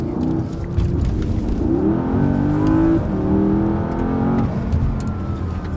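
A powerful car's engine revs and accelerates up close, rising and falling through several gear-like sweeps, loud and continuous for the whole stretch.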